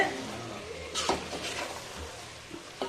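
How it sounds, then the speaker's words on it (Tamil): A metal spoon scrapes and clinks against a cooking pot of chicken masala gravy, a few short stirring knocks close by, with quiet background noise between them. "நம்ம திறந்து பார்ப்போம் இப்போ நம்ம அதை பரட்டி விட்டுருவோம்"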